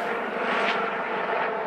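A helicopter passes overhead, a loud, steady engine and rotor roar with a slight swell in the middle, heard alone for under two seconds.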